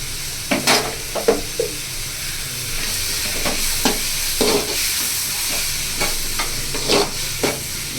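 Ginger garlic paste sautéing in a pan for chicken gravy gives a steady sizzle, broken by repeated scraping stir strokes at an irregular rhythm, close and clear, with no voices.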